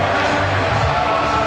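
A football stadium crowd roaring after Jesse Lingard scores for Manchester United against Real Madrid, a dense, loud and steady wash of cheering with a commentator talking over it.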